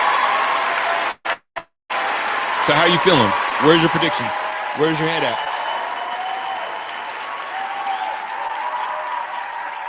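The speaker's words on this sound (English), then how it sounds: "Another round of applause" Bronco fans in a live studio crowd applaud, a steady broadband wash of clapping running through the whole stretch while a host talks over it, with a brief dropout near the start.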